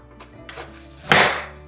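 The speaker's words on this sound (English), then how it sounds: "So this is my little chopper." A small manual chopper cuts onion in a home kitchen: a couple of light taps, then one loud, crisp chopping crunch close to the microphone that quickly fades.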